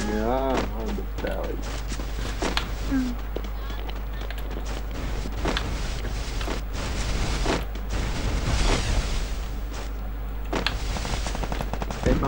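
Gunfire in an online shooter video game, repeated sharp shots and short bursts scattered across the stretch at varying distances, with someone talking over the action.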